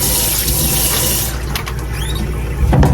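Water runs loudly from a kitchen tap into a sink, a steady rush that shifts in tone after a second as something is held under the stream and wetted, then surges again.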